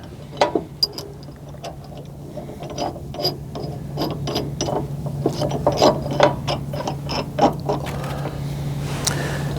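Ratchet clicking while bolts are tightened on a trailer weight-distributing hitch bracket, quick irregular metallic ratcheting bursts close by over a steady low hum.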